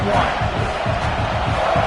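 A loud, dense roar of a large stadium crowd at a football game fills the space continuously, a broad wash of massed voices shouting and cheering without letup.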